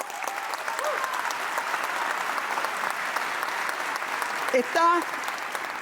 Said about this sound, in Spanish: Un aplauso por ello.